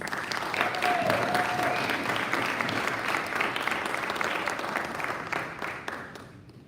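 Sustained applause from a seated audience at a Rotary club year-end meeting, loud and steady for several seconds before thinning out near the end.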